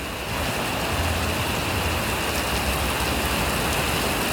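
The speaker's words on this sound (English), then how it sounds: "These are some big old rain droplets." Heavy rain with big droplets pours down in a dense, constant hiss and patter, loud and close, steady for several seconds with no voices.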